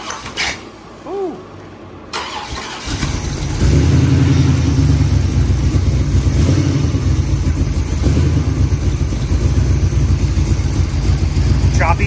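A rebuilt Oldsmobile 403 V8 on a test run: after a few seconds of quiet handling noise it fires up into a loud, close, uneven running rumble that stays choppy throughout.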